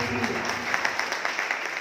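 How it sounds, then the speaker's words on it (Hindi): An audience gives a short burst of dense, continuous applause for Sanjay Sahu, a steady wash of many hands with a faint murmur of voices underneath. "एक बार दिल से जोरदार ताली चाहिए"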